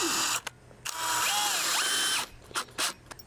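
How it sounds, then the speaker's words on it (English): A power drill drives a screw into fence material outdoors: a short whine that rises and settles into a steady buzzing spin for about a second, then stops, with a few brief clicks and knocks around it. "I'm gonna find a location that I can run a screw that isn't anywhere near a staple"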